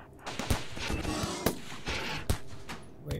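Gunshots in the video game Rimworld: a rapid run of sharp cracks, with a few louder distinct shots at irregular intervals over a busy crackling background.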